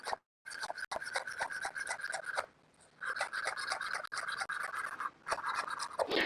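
Fresh basil is chopped with a knife on a board in rapid, continuous rasping strokes, close and clear, with a short pause midway before the chopping resumes.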